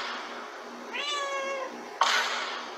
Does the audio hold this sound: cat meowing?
yes